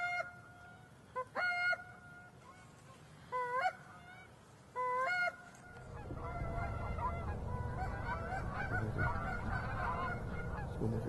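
Canada geese honking during an Arkansas waterfowl hunt, loud nearby calls in short bursts, then a dense overlapping chorus of many birds building from a low rumble of wingbeats and flock noise.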